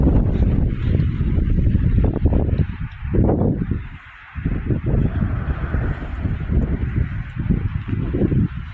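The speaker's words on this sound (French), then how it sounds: "il y a du vent" Strong wind buffets the microphone with a steady low roar that dips briefly before gusting back.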